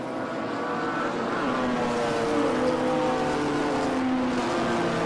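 BMW club race cars on track, heard as a continuous loud engine roar with shifting tones as several cars pass, steady and dense throughout with no pauses.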